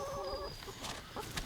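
Backyard chickens from a small flock of about twelve at a rural New England homestead, clucking in short harmonic bursts at close range before fading into softer, scattered calls.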